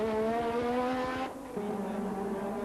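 A 1986 Formula 1 McLaren engine hums in a steady high-pitched drone, its pitch shifting downward midway as gears change, loud and close with no talking.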